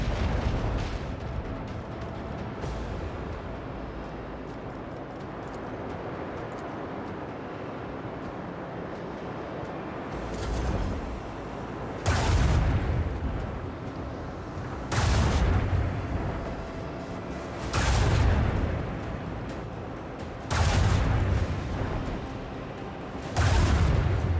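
Weapon fire during a space station raid in Warhammer 40000: Rogue Trader, heard as a run of heavy booming blasts in the second half, spaced a few seconds apart over a steady low rumble of game ambience.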